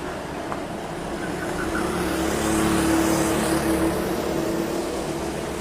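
Race cars contesting the lead in the first round of a championship, their engines droning steadily and swelling slightly mid-clip as they pass fairly close, with a broad roar of road and crowd noise behind.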